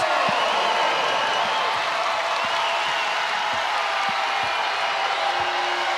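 Arena crowd at an NCAA women's second-round basketball game between Maryland and Alabama, a steady broad roar of cheering and noise throughout, with a few scattered claps and whoops rising from the dense, continuous din.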